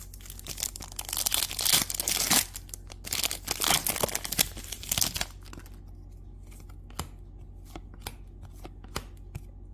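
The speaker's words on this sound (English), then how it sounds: "that is it for this Caitlin Clark blaster box rip" Panini trading card packs from a 2024 blaster box are torn open and handled close by, with bursts of loud crinkling and ripping foil for about five seconds, then sparse quieter clicks and shuffles.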